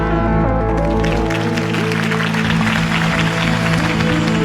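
Crowd applause in the video game Batman: The Telltale Series, after a campaign speech, steady over a sustained musical drone, the clapping dense and continuous throughout.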